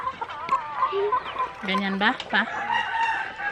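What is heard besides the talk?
chickens clucking and rooster crowing at feeding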